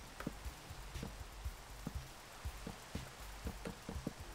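Rain falls in Minecraft as a faint steady hiss, with soft irregular drip-like taps scattered throughout and no talking.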